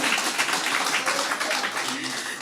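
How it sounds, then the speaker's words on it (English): Audience applause at a ceremony in Central and South Eleuthera, a dense, steady wash of clapping from a crowd filling the short moment, loud and continuous with no pauses. "So give yourself a round of applause."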